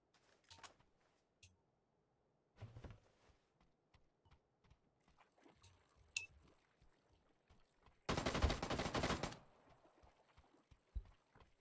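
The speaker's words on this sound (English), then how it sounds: "He's shooting at you." Gunfire in the video game PUBG, scattered faint single shots and clicks followed by one loud sustained burst of rapid fire lasting about a second, then a lone shot near the end.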